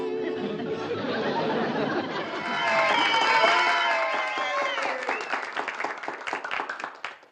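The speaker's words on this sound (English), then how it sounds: "judging from your applause" Audience at a small-town talent contest breaking into applause and cheering mixed with chatter, building to a peak then trailing off into scattered claps.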